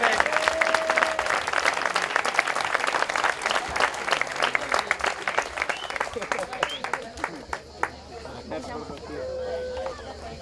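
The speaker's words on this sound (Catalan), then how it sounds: "es mereix un aplaudiment." A crowd at a classic vehicle meet applauds steadily for a young tractor driver named Jaume, dense continuous clapping lasting throughout, moderately distant, with some voices mixed in.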